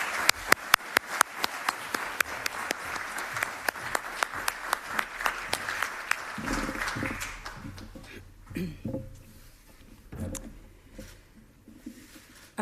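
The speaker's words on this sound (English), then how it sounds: "give her a warm applause" A Europe Day audience breaks into sharp, scattered applause to welcome a keynote speaker, close and lively at first, then fading out as room noise and movement take over.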